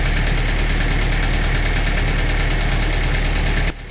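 A Kia Bongo 3.0 diesel engine with a reconditioned starter runs at a steady, loud idle close to the listener. Its even knocking rumble stops abruptly near the end.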